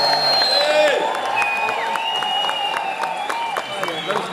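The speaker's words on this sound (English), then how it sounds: "please give them the most biggest applause you can have" An audience applauds as heroes are called onto a stage, clapping and a few whoops running under a loud, pitch-shifting announcer-style voice and musical tones that dominate the foreground.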